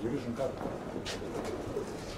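Pigeons kept by a fancier, show birds, cooing softly and intermittently in the open at moderate distance, with steady background noise and some low voices around.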